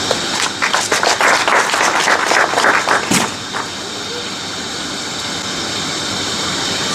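Guests at a Côte d'Ivoire embassy reception clap in a lively burst of applause for about three seconds, ending with a loud final clap before the room falls to a low murmur.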